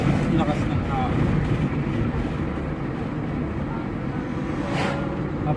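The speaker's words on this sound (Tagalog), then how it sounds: "Sarap ng lakas ng hangin." Strong wind buffets and roars steadily through an open window of a vehicle without air conditioning on a road trip from Manila to Legazpi City, Bicol, with road rumble underneath and faint voices mixed in.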